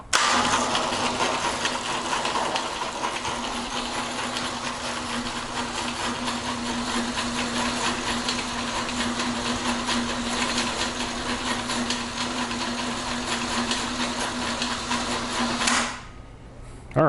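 A LiftMaster BMT5011 garage door operator with a rail extension runs the door down in a shop, giving a steady, fairly quiet motor hum with a faint whine for about sixteen seconds before stopping abruptly.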